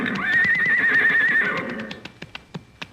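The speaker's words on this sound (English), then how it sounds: "here he comes with the horses." A horse whinnies loudly and long in a radio comedy sketch, then hooves clop in a few sharp, spaced beats as the animal is led up close.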